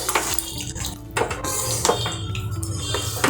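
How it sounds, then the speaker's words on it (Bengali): Potatoes and spices being stirred together for Kashmiri aloo dum: close, continuous clattering and scraping against the pot with irregular knocks, no voices. "এবার এই সব কিছুর সাথে আমি মিক্স করে দিচ্ছি।"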